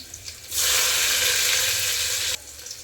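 Garlic and green chilies hit hot oil in a pan and set off a loud, even sizzle that lasts about two seconds, then cuts off abruptly. Nothing else is heard.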